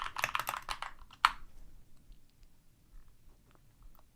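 Quick bursts of typing on a Keychron K2 computer keyboard, a rapid cluster of clacks then one sharper key hit, followed by quiet with faint scattered taps.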